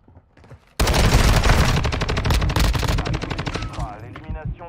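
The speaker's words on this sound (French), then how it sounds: "Vous essuyez des tirs." Automatic gunfire erupts loudly in Call of Duty: Modern Warfare 2 Warzone, a dense sustained burst of rapid shots after a quiet opening, with a brief voice near the end.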